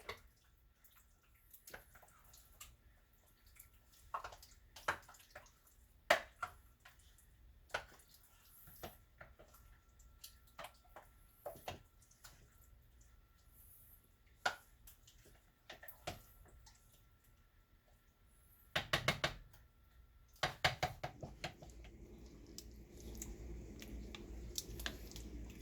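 Quiet, scattered clicks and soft wet scrapes of a utensil stirring a kielbasa BBQ dish in a pan, with a louder burst of clattering near the end and no talking.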